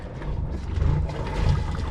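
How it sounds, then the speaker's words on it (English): Water splashes and gurgles steadily from a boat engine's exhaust at the stern, a close, continuous churning sound with no talk. "I hear water coming out the back."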